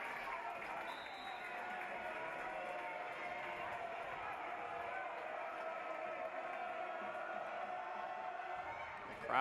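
Spectators at a high school volleyball match between New Bremen and Marion Local keep up a steady, faint crowd roar, with a commentator talking over it throughout.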